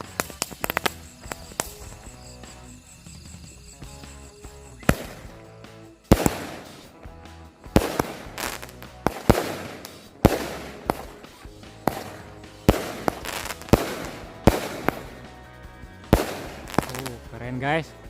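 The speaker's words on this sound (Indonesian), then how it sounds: "Selanjutnya kita nyalain mercon Flower Lovely 16 lesutan." A 16-shot Flower Lovely firework cake fires a long series of sharp, loud bangs at a fairly steady rhythm at night, with crackling between shots and a few voices in the background.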